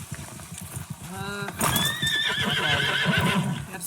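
Hooves clip-clop rhythmically under a loud horse whinny in a video game, with a muffled voice in the background.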